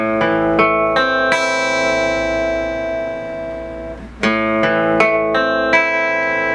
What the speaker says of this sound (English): we're just gonna strum each string individually.